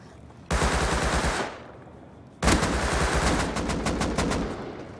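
Automatic gunfire aimed at the player in the survival game Rust, heard as two loud, sustained bursts of rapid shots with a brief pause between them and no talking.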